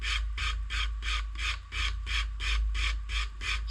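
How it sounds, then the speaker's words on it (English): Rhythmic hand sanding of a knife blade, about a dozen even back-and-forth rasping strokes of sandpaper on a cork block against metal, blade secured to an anvil, close and steady, over a low background hum. "Got my cork block with some sandpaper wrapped around it."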